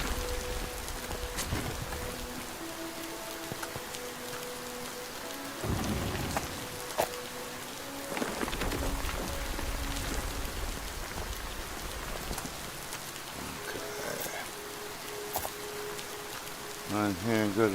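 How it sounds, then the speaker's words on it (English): Steady rain pattering in a video game, with several deep rolls of thunder rising and fading, while a person talks over it now and then. "it's raining in the game too"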